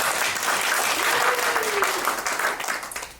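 Members of a church congregation clap warmly during a Sunday worship service, a dense, even wash of applause holding steady throughout with a faint voice briefly rising beneath it.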